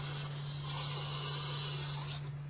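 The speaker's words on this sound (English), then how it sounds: "So just give her a little spray. Try to fill the bowls up." B12 cleaner hisses steadily from an aerosol can as it is sprayed close up into the carburetor bowls of a 1985 Dodge Ram Charger 360, one continuous burst over a low electrical hum, then stopping.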